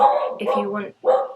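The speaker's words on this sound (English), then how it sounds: "Sorry, that's my dog." A pet dog yips and barks close by in a home, with a person talking over it.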